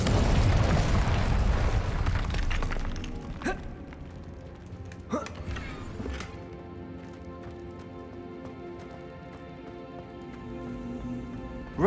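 Incendio fire spell cast in Hogwarts Legacy: a loud, roaring burst of flame right at the start that fades over a few seconds into quieter game ambience, with a few sharp crackling pops after it.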